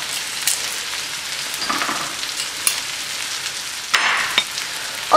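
Garlic sizzles in a pan with white sausage and smoked bacon, a steady frying hiss broken by a few louder crackles and stirring scrapes, close and with no talk.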